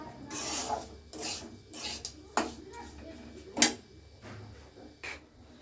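Semolina being stirred in ghee in a pan for halwa: repeated close scraping and rasping strokes of a spoon against the pan, uneven in rhythm with an occasional sharper clink.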